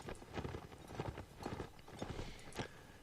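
A horse gallops with steady, rapid clip-clop hoofbeats in the Mount and Blade game with the North & South mod during a line battle, heard close and alone with no talk.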